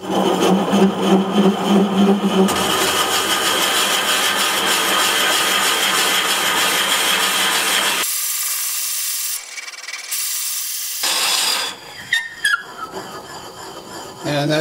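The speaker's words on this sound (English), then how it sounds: "Got the lathe spinning forward at about 200 RPM." A wood lathe spins forward at about 200 RPM while a tool bores into chestnut wood, making a loud, continuous scraping and rubbing roar that shifts and breaks into rougher, intermittent grinding toward the end.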